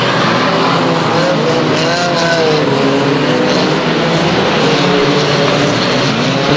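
Banger racing cars circling a raceway at Kings Lynn, a loud continuous roar of several engines with shifting pitch as they pass, with no voices over it.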